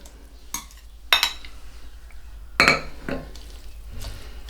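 Utensils scrape and knock against a bowl in a few irregular bursts, a soft mashing of potato and buckwheat pie filling between them, close by with no talking.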